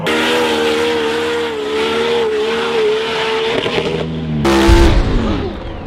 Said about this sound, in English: we're now going for a test rip in the Hellcat